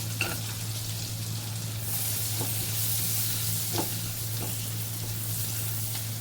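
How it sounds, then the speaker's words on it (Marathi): Amul garlic herb butter sizzles steadily in a hot kadhai, with a constant broadband fry hiss over a low hum and a few soft utensil clicks, no voices. "मी इथे अमूलचं जे गार्लिक हर्ब्सचं जे एक बटर येतं ते घातलंय"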